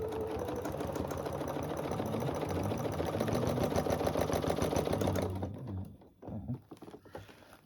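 A sewing machine stitches binding onto a small table runner, running in a fast, even mechanical rattle for about five seconds before stopping, followed by a few soft handling sounds.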